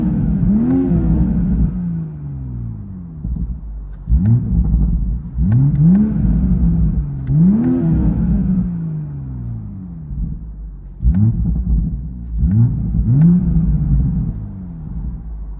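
A Toyota Supra GR with a Borla exhaust revs repeatedly as heard from inside the cabin, with loud, deep blips rising and falling in bursts over a constant idle rumble.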